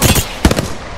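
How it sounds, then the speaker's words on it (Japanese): Enemy gunfire in the video game Apex Legends: a brief, loud cluster of rapid shots, close and harsh, fading quickly. "おい、敵は撃ってきた"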